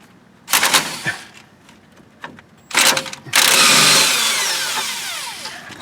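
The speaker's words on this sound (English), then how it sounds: "Half-inch impact gun's a little overkill" A half-inch impact gun hammers at the stabilizer link nut on a 2009 Pontiac G8 during a strut replacement, with several short loud rattling bursts followed by one long sustained buzzing run.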